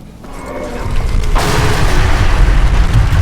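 Alduin the dragon destroying Helgen in Skyrim: a loud, continuous rumbling boom of explosions and crashing debris that swells in the first second and stays heavy and dense throughout.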